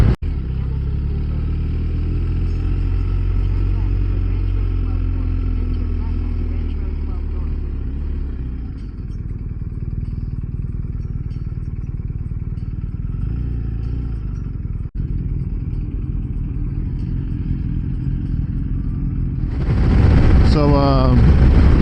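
A BMW motorcycle, an R 1250 RS or S 1000 XR, rides over uneven construction pavement with ridges, giving a steady engine drone and road rumble with wind noise, rising in a louder revving burst near the end.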